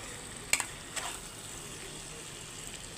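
Fried potatoes and eggs dropped into hot oil for egg curry and stirred, a soft, fairly quiet sizzle with a sharp clink near the start and a few light scrapes.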